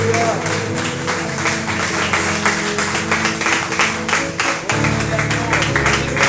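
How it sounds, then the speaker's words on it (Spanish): Church congregation clapping for Jesus during a worship service, rhythmic applause mixed with music and voices, fairly loud and continuous. "¿Alguien le puede dar un aplauso al Señor Jesús?"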